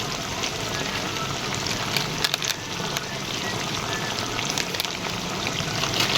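Steady sizzling and crackling as turmeric and chili powder fry in a pan while being stirred for aloo dum, a continuous moderate hiss with occasional sharper clicks from the spoon.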